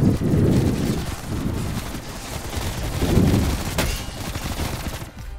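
Enemy gunfire in Call of Duty: Cold War Zombies, a dense, rumbling clatter of shots that rises and falls in waves over continuous game noise, with no voices.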